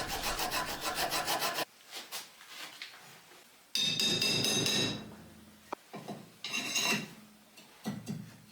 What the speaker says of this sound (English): Moving on to flat file.